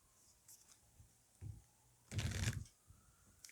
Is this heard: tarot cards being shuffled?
yes